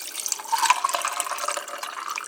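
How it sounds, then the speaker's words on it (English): Water poured into a mug already holding a Gatorade Zero Sugar Glacier Freeze Iceberg drink mix: a steady, close trickling and splashing stream for a couple of seconds, with no voices. "you pour in the water"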